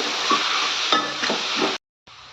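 Egg rice masala frying in a pan, a steady close sizzle with soft stirring scrapes, cut off abruptly near the end before resuming briefly.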